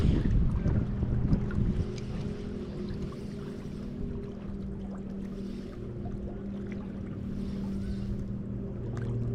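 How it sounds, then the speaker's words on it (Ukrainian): Wind rushes steadily against the microphone alongside a low droning hum, continuous throughout with no talking. "вітер стає боковий такий, знову міняється, холодний вітер"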